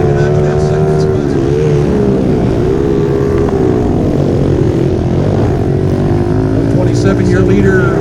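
Pit bike motorcycles racing through whoops and over a hill at a county fair race park, their engines whining and revving continuously at mid distance, with a race announcer talking over them.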